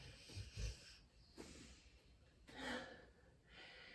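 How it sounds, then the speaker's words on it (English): A dog in a home yoga space snores and breathes quietly in the background, with a few irregular soft snorts and breathy rasps spread across a very hushed room. "You might hear my dog snoring and breathing in the background."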